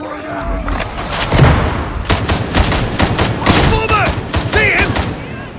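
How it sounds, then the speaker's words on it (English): An auto gun in Warhammer 40,000: Darktide fires in rapid loud repeated bursts of shots with booming impacts, with game voices calling out between the volleys. "the auto gun also sounds cool"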